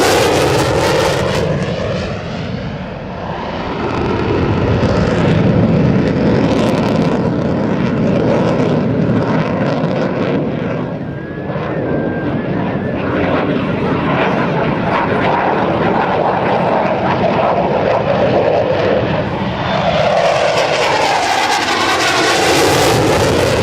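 An F/A-18C Hornet fighter jet flies a minimum radius turn at an air national guard airshow. Its engine roar is loud and sustained, with a rising and falling whine and a rumbling, shifting pitch as it banks around.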